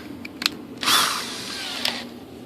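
A short burst of power drill whirring as a 9/64-inch bit drills a hole, close and fairly loud, rising then fading over about a second, with a few clicks around it.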